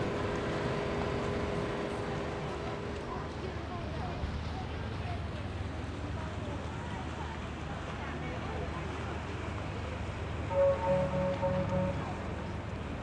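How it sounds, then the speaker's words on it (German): Busy midday boat traffic in the channel between islands near Marstrand, heard as a steady wash of engine drone, water and wind with a brief louder engine tone passing near the end. "In dem dazwischenliegenden Fahrwasser herrscht jetzt um die Mittagszeit ein reger Schiffsverkehr"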